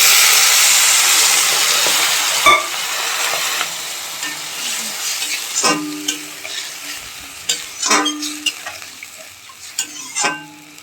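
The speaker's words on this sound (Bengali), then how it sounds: "এবার হালকা পরিমাণে একটু জল দিয়ে দেবো।" Dried kachki fish sizzles loudly in a pan, then bursts of crackling and spitting erupt as a little water is added, settling into an uneven hiss with scattered sharp pops.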